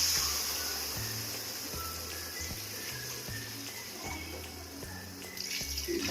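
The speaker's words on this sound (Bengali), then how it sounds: "আমি জলটা দিয়ে দিচ্ছি।" Water pours steadily from a tap or vessel into a pot of elephant-foot yam and prawn curry, a continuous splashing wash with faint low hum underneath. It stays fairly quiet and close.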